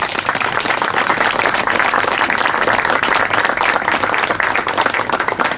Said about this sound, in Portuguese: peço uma salva de palmas para vós todos que aqui estáis